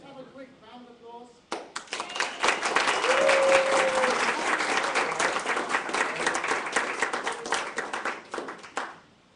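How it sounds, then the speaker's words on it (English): Audience at a barcamp gathering breaks into applause as food arrives, a lively burst of many hands clapping for several seconds after brief talk, then tapering off abruptly. "Can we just have a quick round of applause?"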